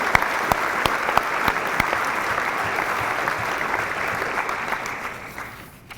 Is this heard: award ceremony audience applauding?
yes